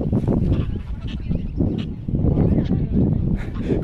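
Geese in Richmond Park honk in a dense, continuous flock chorus close by, calls overlapping throughout with brief dips, and faint talk is mixed in.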